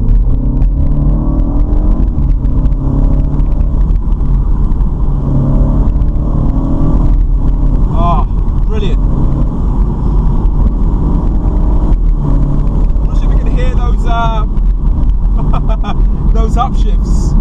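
A BMW Z4 with an automatic gearbox in Sport Plus mode accelerates hard on a road, its engine droning loudly and steadily from inside the cabin while a person talks over it.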